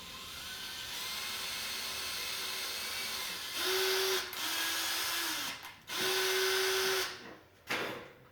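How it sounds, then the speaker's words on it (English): A power drill drilling through wood runs in several bursts, its motor whirring up and down between short pauses, close and moderately loud with no talking. "You're going to drill in all the way through."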